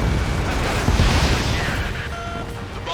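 A missile explosion in the combat flight game Ace Combat 7 makes a loud, close rumbling blast that surges and then slowly fades beneath a steady roar.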